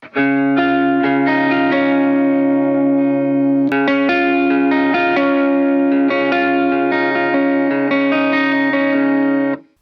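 An electric guitar played through a pitch shifter pedal set as a reverse capo, sustained ringing chords with a bright metallic shimmer, loud and continuous with a brief break midway.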